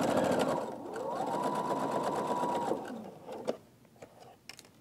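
A home sewing machine chain piecing pinned quilt blocks, a steady close mechanical whir with a rapid needle patter for about three seconds, then stopping, followed by a few small clicks and handling sounds.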